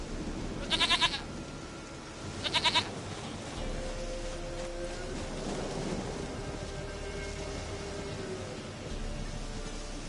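Two short bleats from a goat in The Witcher 3, sounding near and distinct, each a quick burst, set over a steady low game ambience with faint tonal background sounds and no talking.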